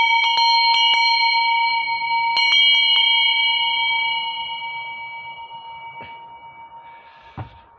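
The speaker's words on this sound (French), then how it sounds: "Ah, ben c'était une cloche." A bell rings in several clear strikes, the first ones close together and then sparser, each leaving a long metallic hum that slowly fades. A single softer tap comes near the end.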